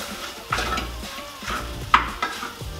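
Pork carnitas stirred in a hot pan, a utensil scraping and clinking against the metal in a few distinct strokes over a low, steady sizzle.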